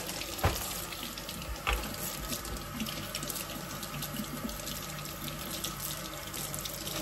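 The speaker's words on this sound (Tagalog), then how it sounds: "I need to wash my hands first." Hands are washed under a running kitchen tap, giving a steady splashing rush of water with a couple of sharper knocks and clatters near the sink. It sounds close and fairly loud, with no talking.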